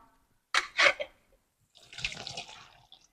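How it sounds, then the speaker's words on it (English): Water poured off a pot of briefly boiled Brussels sprouts into a sink, two quick splashing gushes followed by a longer, softer draining trickle, close and fairly quiet. "I'm gonna drain some of this water out"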